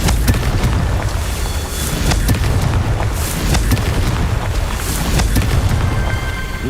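A Confringo blasting spell explodes in the Harry Potter: Hogwarts Mystery video game, a dense rumbling burst with crackling impacts layered over game noise, loud and continuous.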